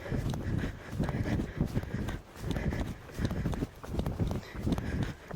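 Horse working on the flat in winter, hooves clip-clopping in a steady walking rhythm, close by and moderately loud, with a faint voice now and then in the background.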